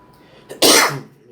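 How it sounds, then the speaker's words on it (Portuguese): A single sharp, close cough, loud and brief, with a short breathy lead-in and then quiet. "desculpa pela tosse"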